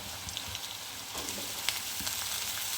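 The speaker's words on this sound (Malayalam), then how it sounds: "ഇനി നമുക്ക് അരിഞ്ഞു വെച്ചിരിക്കുന്ന വാഴയ്ക്ക ഇതിലേക്ക് ഇട്ട് കൊടുക്കാം." Chopped raw plantain hitting onions frying in hot oil in a pan, giving a steady, close, dense sizzle with light crackles and a soft stir or two, with no talking.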